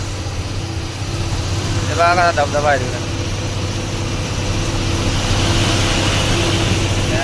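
A steady, close engine drone from a car being driven fills the whole stretch, with someone talking briefly over it.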